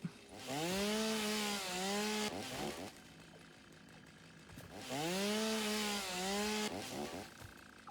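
Crafting sound from the video game Satisfactory: a whirring, sweeping mechanical tone that rises and falls in pitch, played twice with a short gap, moderately loud, with no talking.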